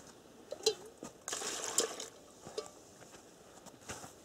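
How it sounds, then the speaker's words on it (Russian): Water poured into a warm glass jar in a forest dugout, with short splashing bursts and trickles separated by quiet gaps, close and fairly faint. "Так, воду вливаем."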